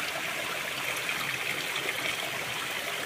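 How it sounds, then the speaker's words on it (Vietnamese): Small waterfall in a dense forest stream giving a steady, even rush of falling water, continuous and moderately close with no voices. "Đây, thác nước này."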